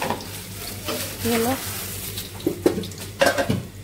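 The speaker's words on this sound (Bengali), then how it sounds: "এই যে আম্মা টিকিয়া ভাজতেছে" Tikia patties frying in a pan on a home stove, a steady close sizzle with stirring and scraping, a brief voice speaking over it.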